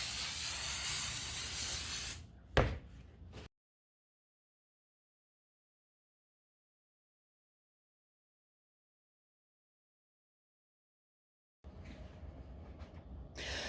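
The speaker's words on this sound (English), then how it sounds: "So we'll take our brake cleaner and then we will" Brake cleaner sprays in a loud, steady aerosol hiss into the inside of a transmission pan from a 1997-2004 Buick Regal for about two seconds, then a short clatter, a long silence, and a softer burst of spraying near the end.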